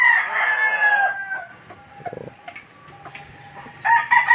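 Rooster crowing loudly up close on a farm shaded by banana, rambutan and soursop trees, then a quieter stretch of hens clucking before a second crow starts at the end.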